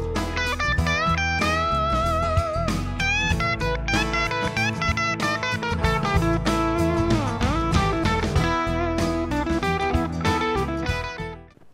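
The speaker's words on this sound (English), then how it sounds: "instead of using the minor pentatonic, giving a heavy blues sound like this" Distorted electric guitar plays a busy minor pentatonic blues solo over a backing track, dense quick notes and bends at steady loudness, ending with a fade and no talking.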